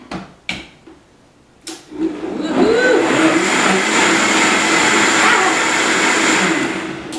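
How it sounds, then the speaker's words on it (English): A blender purees roasted fruit and vegetable soup, starting after a few knocks and clunks and then settling into a steady, loud whirring drone that runs to the end. "So I'm gonna puree this up."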